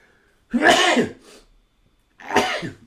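Two harsh, broadband coughs close to the mic, separated by a short pause, with a faint breathy sound between them.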